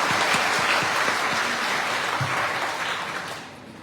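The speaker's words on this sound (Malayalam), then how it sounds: "ഞാൻ അദ്ദേഹത്തിന് ഒരിക്കൽ കൂടി നിങ്ങളുടെ ഒരു നിറ കയ്യടി ഞാൻ പ്രതീക്ഷിക്കുന്നു." Audience at an election convention claps in a full, sustained round of applause, loud and dense at first, then tapering off near the end.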